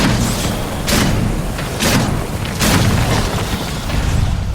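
Grenade blasts in the video game Evolve: several deep booming explosions in irregular succession, each a broad burst over a constant rumbling background, loud and close with no talk over them.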